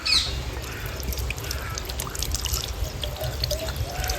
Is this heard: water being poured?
yes